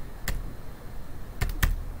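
Computer keyboard keys tapped while drafting in Revit Architecture 2015: a single sharp keystroke, a pause, then two quick keystrokes close together, crisp and near over a faint room hum.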